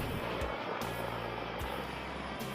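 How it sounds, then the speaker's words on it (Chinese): A WZ-10 attack helicopter flies at very low altitude, its engine and rotor making a steady, dense roar with faint periodic thumps, heard alone without talking. "需要驾驶直升机超低空飞行"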